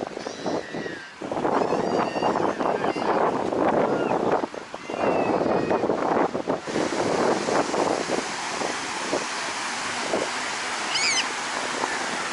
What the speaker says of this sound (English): it's very windy here today, and that's why you got these really big waves here